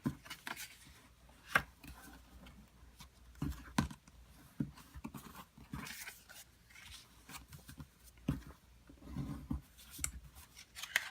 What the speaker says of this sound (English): Now we can go ahead and fold and burnish our score lines